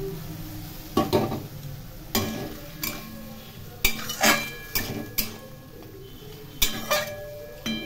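Poppy seed paste being stirred into boiled potatoes and okra in a pan, with repeated sharp scraping clinks of a spoon against metal over a low sizzle, about a dozen strokes in an uneven rhythm.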